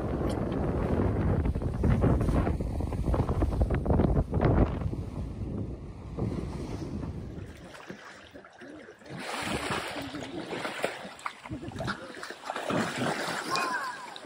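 Water sloshes and splashes around a sailing trimaran amid strong wind buffeting the microphone, with surges of spray and a quieter lull midway.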